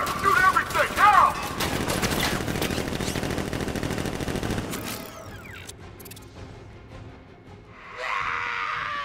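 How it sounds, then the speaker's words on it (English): Sentry guns in the video game Batman: Arkham Knight open fire in a dense, continuous automatic barrage mixed with explosions and shouting, then taper into quieter mechanical sounds before another burst of noise. "Activate sentry guns on my mark. 3, 2, 1. Gone! Open fire! Shoot everything!"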